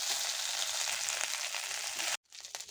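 Ginger and cumin spice paste frying in a pan gives a loud, steady sizzle for about two seconds, cuts off sharply, then resumes more faintly.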